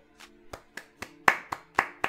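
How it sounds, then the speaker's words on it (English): Eight sharp hand claps in a steady rhythm, the later ones louder and close by, with no voices, given as celebration during a box opening in the game Unturned. "That deserves a clap."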